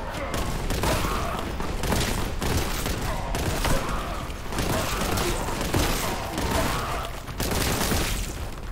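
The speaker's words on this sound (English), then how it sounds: "Oh, the gunplay is so satisfying." Heavy gunfire in the Warhammer 40,000: Boltgun video game, with loud, rapid bursts and booming shots hammering almost without pause across the whole stretch.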